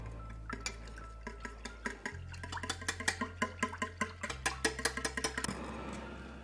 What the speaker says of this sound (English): Now we're going to mix all that together.